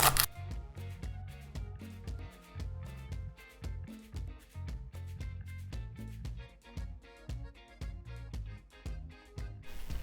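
A knife finely chops a bunch of fresh, washed parsley on a board for a herring and beet salad, making rapid, steady rhythmic taps at close range with no one talking.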